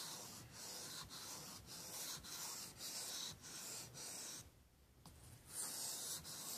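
A knife blade rubbing back and forth on a wet waterstone in regular gritty strokes, close and fairly quiet, with a short break before the strokes resume.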